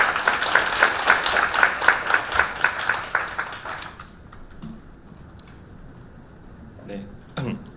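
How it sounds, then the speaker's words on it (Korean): A seated forum audience at a youth education event gives a welcoming round of applause for a presenter. The clapping is fairly loud and rhythmic for about four seconds, then fades into quiet room tone with a few small shuffles. "큰 박수로 맞이해 주시길 바랍니다"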